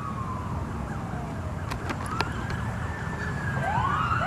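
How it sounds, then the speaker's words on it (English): Police car sirens during a pursuit through a neighborhood, wailing and sweeping at a distance behind steady background noise, with a few sharp chirps and the sound swelling slightly louder toward the end. "I heard sirens in it."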